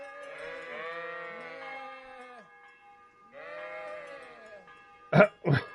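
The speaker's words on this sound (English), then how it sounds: "In the paddock with the sheep." Sheep in a paddock in the video game Kingdom Come: Deliverance give two long, wavering bleats close by, followed by a couple of short, sharp noises at the end.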